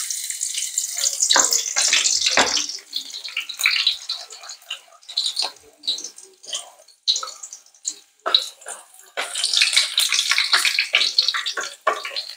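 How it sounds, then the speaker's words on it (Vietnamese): Garlic sizzles in hot oil as braised pork ribs are started, a loud steady hiss that swells and crackles in bursts, close up and with no voices. "Dầu sôi rồi mình cho miếng tỏi vô."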